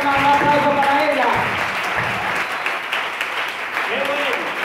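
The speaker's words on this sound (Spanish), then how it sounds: "un aplauso para ella." Steady broadband crowd applause fills the clip at a church missions event, with a voice speaking in Spanish over it at the start and again near the end.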